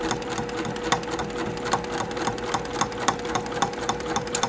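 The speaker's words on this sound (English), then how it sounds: "the machine is pulling the fabric quickly through" Sewing machine stitching fabric with 50 weight thread: a rapid, even mechanical whir with regular needle clicks at a steady rhythm, close and moderately loud, running alone without talk.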